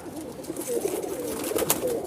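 A spined pigeon, a high-flying breed, coos softly and repeatedly while being held, the low murmuring calls close and clear over faint background hiss, with no talking.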